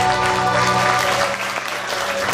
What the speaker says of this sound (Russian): Эти аплодисменты звучат в вашу честь.